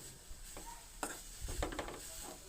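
Grated carrot and coconut fry in ghee in a pan, a faint, continuous sizzle with soft scraping stirs and occasional light clinks of a spoon against the pan, close and without talk.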